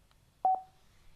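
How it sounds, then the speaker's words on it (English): Two quick electronic beeps sound from a Cardo Freecom motorcycle intercom as its phone button is pressed, close and clear against near silence. "Then, press the phone button."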